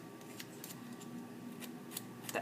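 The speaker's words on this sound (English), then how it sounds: "I'm going to use my scissors to distress the edges." Scissors run along the edges of paper to distress and fray them for a birthday card, producing faint, soft scraping and snipping rasps in a few short bursts against a quiet background.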